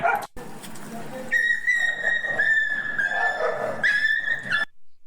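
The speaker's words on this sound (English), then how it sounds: "That high pitch, yipe, yipe, yipe, she's not hurt." A submissive dog gives a run of high-pitched yelps and whimpers after being rolled onto its back, the cries close and repeated, with thin whistle-like tones and a little background noise.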